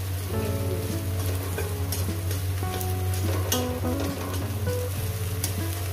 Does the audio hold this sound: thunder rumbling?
no